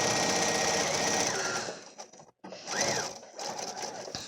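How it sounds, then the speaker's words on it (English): A sewing machine stitches a fabric face mask with a fast, close, continuous whirring hum, stops for a moment, then runs again in shorter bursts. "My sewing machine messed up my stitches there a little bit"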